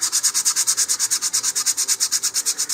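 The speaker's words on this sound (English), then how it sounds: "I'm just using some fine sandpaper here" Fine sandpaper rubs sanding sealer off the fins of an Estes Goblin model rocket in fast, even back-and-forth strokes, about nine per second, close and loud with no talk.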